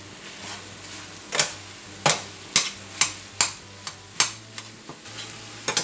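A utensil stirring food in a pan, about a dozen sharp scraping clacks at an irregular, steady pace over a low background hum, close and clear with no talk.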